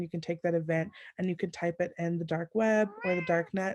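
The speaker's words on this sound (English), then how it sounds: "Sorry, that's my cat." A pet cat meows loudly and repeatedly close to the microphone, its cries overlapping a man's ongoing speech about online news sources.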